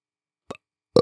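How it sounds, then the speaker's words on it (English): A loud, close burp near the end, preceded by a shorter, fainter gulping or belching sound midway, with silence between and no talk. "It was a good burp."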